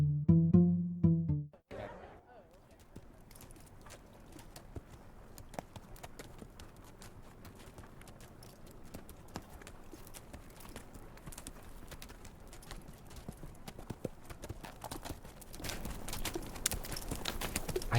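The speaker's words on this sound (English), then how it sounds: "I'll get the horses." Horses' hooves clip-clop in a steady, moderately close rhythm over a low, continuous background wash that grows slightly louder toward the end.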